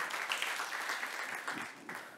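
An audience at the MTL Tech Awards during MTL Connecte 2024 in Montreal applauds the three innovation award finalists with steady, dense clapping that sounds somewhat distant and muffled.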